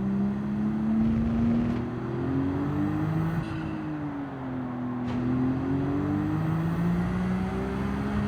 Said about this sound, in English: Take a look at this GTR cornering with a good body height first.